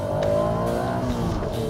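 First-generation Honda NSX engine revving hard, a near, loud, sustained high-pitched wail with rising and falling pitch, heard on its own.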